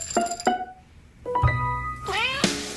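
A cat meows repeatedly in a Meow Mix cat food TV commercial, with several clear, close meows and a brief thump, over a light musical background.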